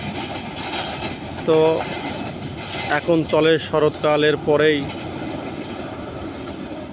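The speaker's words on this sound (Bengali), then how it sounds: "খুলনা থেকে ছেড়ে এসে রাজশাহীর উদ্দেশ্যে কপোতাক্ষ ট্রেনটি রাইট টাইমে যাচ্ছে।" A passenger train, the Kopotakkho Express running from Khulna to Rajshahi, rumbles past in early morning with a steady rolling noise and loud horn-like bursts in the middle, while someone talks over it.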